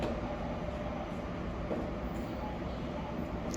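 A train on the Seoul–Pohang high-speed line passes near Seoul Station, giving a steady broadband rumble and rail roar that holds for several seconds with no talk over it.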